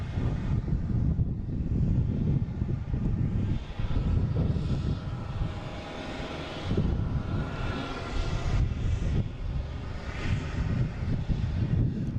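A Condor airliner lands at Boston Logan airport, its broad, steady jet roar filling the scene for about twelve seconds with some wind buffeting and no talk.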